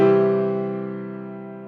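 A single loud piano note rings out clearly and slowly fades over a couple of seconds.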